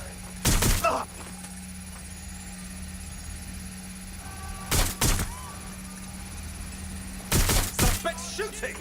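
Gunfire in Watch Dogs: Legion breaks out in three separate loud bursts of several quick shots each, with a steady low hum running underneath in the pauses.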